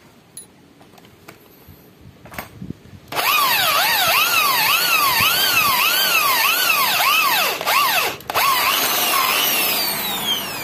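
A power drill grinds into a broken brake caliper bleeder bolt, starting after a few quiet clicks and whining continuously with a rhythmic wavering pitch as the bit bites and catches, close and loud.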